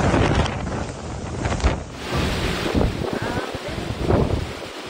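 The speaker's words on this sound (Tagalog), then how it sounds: "Malakas na hangin naman ang kasabay ng ulan sa bayan ng Bani sa Pangasinan." Strong wind driving rain in Bani, Pangasinan, roaring as a steady broadband gust noise with heavy buffeting on the microphone and surges throughout, loud and close.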